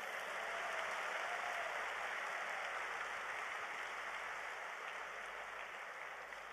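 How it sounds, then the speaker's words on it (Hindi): An audience at the Delhi Success Day event applauds the speaker's wife, steady clapping that sounds soft and distant, like a rain-like wash spread evenly throughout. "मैं चाहता हूं एक बार जोरदार तालियां उसके लिए भी हो जाएं"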